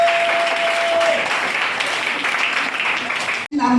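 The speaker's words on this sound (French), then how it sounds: "Acclame-toi." A church congregation breaks into loud, dense applause that holds steady for several seconds before cutting off abruptly.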